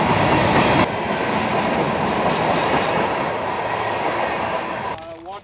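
A freight train rolls through a desert canyon in the Mojave, a loud, steady rumbling roar of wheels and wagons that continues without pause, with a short voice breaking in near the end.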